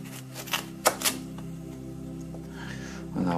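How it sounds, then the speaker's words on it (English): A knife slices vegetables into thin slices for a vegan meal, giving a few sharp, close chopping knocks early on, then quieter scraping, with no talk over it. "I'm cutting thin slices."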